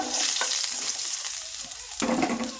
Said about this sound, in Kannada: ನೋಡ್ರಿ, ಉಳ್ಳಾಗಡ್ಡಿ ಅಂತೂ ಫ್ರೈ ಆಗ್ಲತ್ತವ